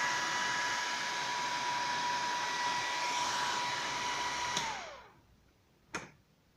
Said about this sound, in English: Man, that thing is blowing some air. A lot of airflow from that thing.